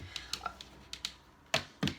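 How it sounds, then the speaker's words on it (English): A deck of tarot cards being shuffled by hand before a reading: a scatter of light, quick card taps and flicks, then two louder, fuller riffling bursts near the end, close and fairly quiet. "Now I shuffle all the cards before I start the reading"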